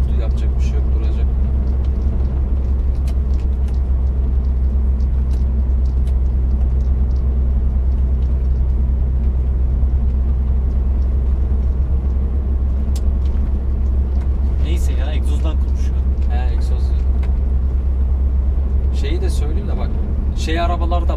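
Scania truck with an open exhaust driving on the road from Samsun to Denizli, a constant heavy low engine rumble throughout, with brief hissy bursts near the end.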